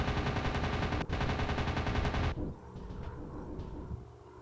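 Machine gun fire pours onto a ship in a video game, a loud continuous stream of rapid shots that cuts off abruptly partway through, leaving quieter game sound behind.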